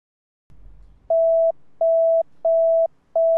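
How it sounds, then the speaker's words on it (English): Dispatcher alert tones from a Sonoran Radio tone board played through an in-game speaker: a brief low burst, then four evenly spaced, identical steady beeps, loud and clean with no talk. "Dispatchers can now use the tone board and select that speaker to play tones to."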